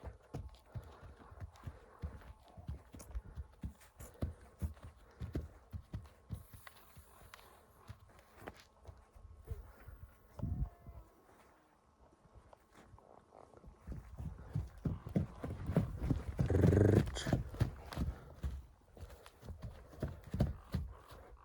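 Horses shift about in a stable, their hooves giving irregular clip-clop thuds and scuffs on the floor, quiet at first and then louder and busier near the end, with no talking.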